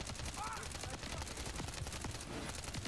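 Rapid gunfire crackles throughout a Call of Duty: Modern Warfare 3 firefight, dense and continuous with overlapping shots and faint game sounds.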